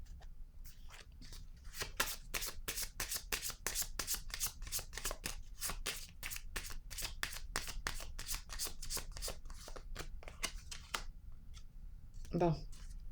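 Tarot cards are shuffled by hand in a rapid, crisp run of riffling flicks lasting several seconds, close and fairly quiet, ending with a brief thump near the end.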